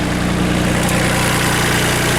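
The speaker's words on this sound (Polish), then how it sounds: "Silnik, silnik Perkinsa 3-garowy." A three-cylinder Perkins diesel engine of about 30 horsepower in a Weidemann-type mini loader idles close by with a steady, loud, low chugging rhythm and rattling vibration, unbroken for the whole stretch.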